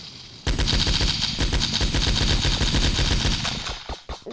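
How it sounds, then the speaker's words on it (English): Rapid automatic Kalashnikov rifle fire in a video game, a loud, close, continuous burst of evenly spaced shots lasting several seconds before breaking into a few scattered final rounds. "What the Kalashnikov? Wait. Yo, that sets up a whole new level of fire."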